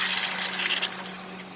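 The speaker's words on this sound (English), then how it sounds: "now I'm going to add water." Water pours steadily into a cooking pot for chicken stew, a continuous close splashing rush that eases slightly toward the end, with no talking.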